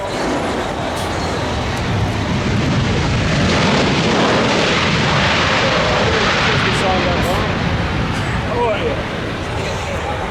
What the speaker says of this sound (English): Airbus A330 landing here, I think it's going to usurp your conversation.